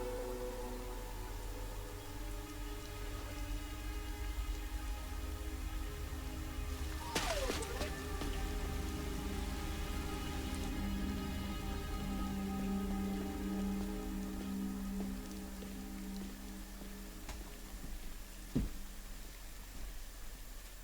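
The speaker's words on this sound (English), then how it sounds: "It's raining." Rain pouring steadily in the video game Rain Code, an even hiss of drops on surfaces under a low droning hum, with a brief sharp swoosh midway and a faint click near the end.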